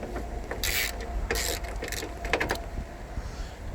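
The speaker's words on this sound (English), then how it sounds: "Now we're going to use our 10mm socket to take out these screws here." A 10mm socket ratchet works screws loose on a 2014 Toyota Camry during battery removal, giving bursts of quick clicking and mechanical rattling over a low, steady background hum, close by with no speech.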